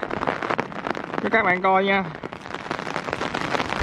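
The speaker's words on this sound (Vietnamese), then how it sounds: "đồng thời mưa cũng lên luôn, mưa sắp mặt luôn đó" Rain falls steadily on a mountain campsite on a hillside with steep trails, a broadband hiss of drops running throughout while someone talks over it, with a brief tonal sound rising in the middle.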